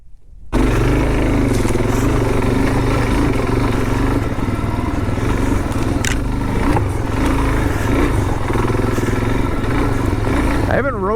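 Suzuki DRZ400 dual sport motorcycle ridden off-road with a case mounted on the back, its engine droning steadily and close throughout, with clattering over rough ground and wind noise.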